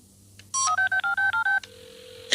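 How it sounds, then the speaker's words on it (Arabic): A telephone is dialed in a Looney Tunes cartoon: a quick run of about seven crisp touch-tone beeps in even rhythm, followed by a steady tone and a sharp burst at the end. "اتصل بوركي، لن يكون هناك مشكلة"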